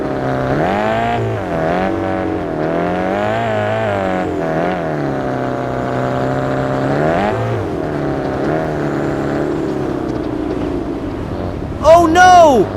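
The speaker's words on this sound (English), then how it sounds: "Let's enjoy the raw sound of rally for a moment." Rally car engine in a WRC-style video game stage, revving steadily with rising and falling pitch and a sharp burst near the end, loud and continuous without talk.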